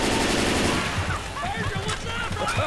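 Gunfire in Left 4 Dead 2, a burst of rapid shots from the co-op zombie shooter, loud and dense over game noise with players talking over it.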